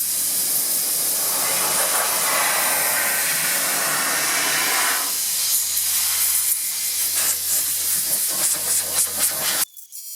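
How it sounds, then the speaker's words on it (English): A spray can hisses steadily as clear coat is applied to a restored car headlight, a loud continuous spray lasting several seconds, then broken into short bursts before stopping. "Make sure any contaminants are gone so we don't get any peeling or poor adhesion of the clear coat. And then we'll spray."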